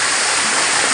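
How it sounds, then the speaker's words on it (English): Gembleng waterfall in Sidemen, heard from its top: a constant, loud rush of falling water, an unbroken broad hiss with no breaks or voices. "We arrived in the top of the waterfall."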